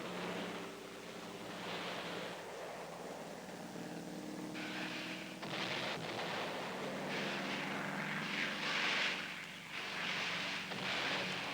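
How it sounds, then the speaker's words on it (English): Carrier-based fighter planes fly over North Korea in 1950, heard as a faint, steady engine roar through a hissy, surf-like wash of noise, swelling a little in the second half. "these planes are now ranging far and wide over North Korean territory"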